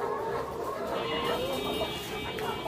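Hens in a flock of about sixty-eight laying chickens cluck steadily nearby for a few seconds, with overlapping calls and no talk.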